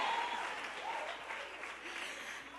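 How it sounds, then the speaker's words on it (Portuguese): A church audience breaks into steady applause, a continuous wash of many hands clapping that sounds somewhat distant and muted, with faint voices mixed in. "Pode aplaudir, aplaude mesmo."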